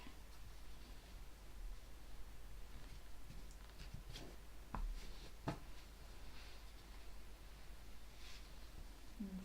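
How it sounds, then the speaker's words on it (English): A deck of tarot cards is cut by hand, heard as a faint papery rustle with a couple of soft snapping taps near the middle, all quiet and close against low background hiss. "let me cut the deck"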